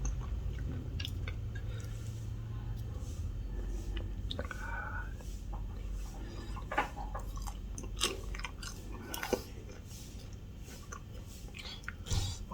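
Crunchy, soft bites of sushi fried in an air fryer, here a shrimp piece, chewed close to the mic with scattered crisp crunches and wet squishes over a low background hum.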